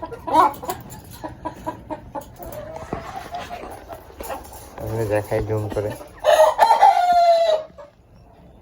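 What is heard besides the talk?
Egyptian Fayoumi and local chickens clucking and crowing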